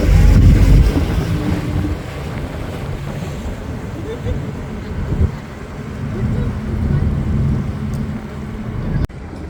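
A boat moves on a river with a steady low engine rumble under wind and water noise, fairly close, with a brief louder surge at the start and no speech.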